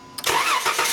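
A Volkswagen Routan or Chrysler Town and Country engine that will not start cranks and turns over with a whirring, rising mechanical sound, close and loud.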